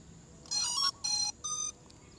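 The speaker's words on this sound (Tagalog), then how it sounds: "Power on natin yung drone." LSRC GT50 drone powering on, giving three clear electronic startup beeps in a steady rhythm, each about a third of a second long, close and fairly quiet against a low background hiss.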